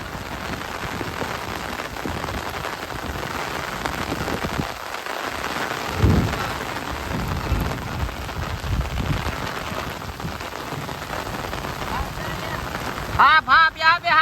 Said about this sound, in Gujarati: બહુ મજબૂત વરસાદ પડે છે.